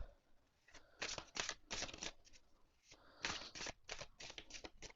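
Tarot cards being shuffled by hand, a series of crisp riffling bursts in two clusters separated by a short pause, close and clear with no talk over them.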